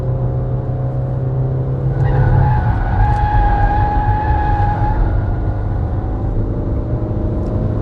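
A Peugeot 2008 SUV drives and turns through a parking garage, its engine a steady droning hum with a rising whine and tire squeal echoing as it rounds the bend, no voices over it.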